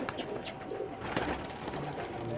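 Old-breed pigeons, including kasid and rangeen types, coo in a close gathering, overlapping low burbling calls with a few soft chirps in a steady murmur.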